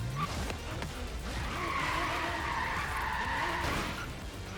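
Car tires skid and squeal as a car drifts in Forza Horizon 3, a loud sustained screech holding steady for several seconds over the rumble of the engine, with no talking.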